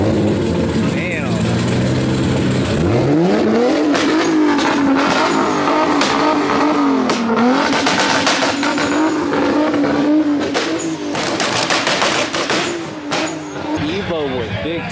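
A Mitsubishi Evo fitted with a big turbo revs and accelerates loudly at a private supercar meet, its engine note sweeping up and down amid crowd chatter and other cars nearby.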